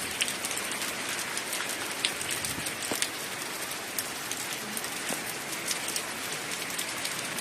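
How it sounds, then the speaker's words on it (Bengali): Heavy rain pours steadily and loudly, a dense continuous hiss of drops drumming on a surface with scattered louder splashes. "বন্ধুরা দেখো কি বৃষ্টি হচ্ছে, বিশাল বৃষ্টি"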